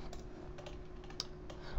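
Several quiet, quick clicks of keys on a computer keyboard during an After Effects animation tutorial, tapped in a loose, irregular rhythm over a faint background hum.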